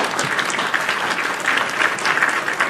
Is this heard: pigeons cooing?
no